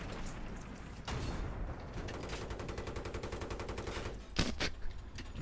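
Gunfire in Battlefield 3 comes as a sustained rapid burst of automatic shots, then a louder heavy blast near the end, all over dense game background noise.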